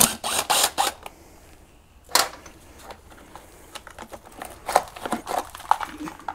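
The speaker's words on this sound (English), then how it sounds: "I'm gonna go ahead and pull this bolt out." Metal bolts being worked loose and pulled from a junk CFMOTO CForce 600 ATV engine during teardown, giving a scattered run of sharp close clicks, taps and rattles with quiet gaps between them and no talk.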